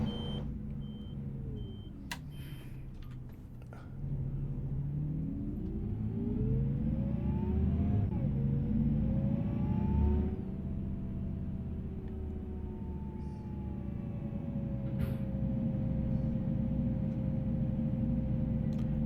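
A Flixbus coach engine in a bus simulator game, driving from Cologne to Munich: a steady low rumble whose pitch rises and falls through gear changes as it accelerates, with a few faint beeps and clicks over the top.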